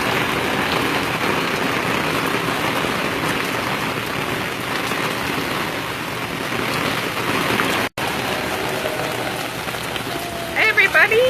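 Heavy rain pours down at a park, a dense, loud, continuous hiss of drops striking surfaces, briefly cut off near the end before a few faint voices and chirps come in.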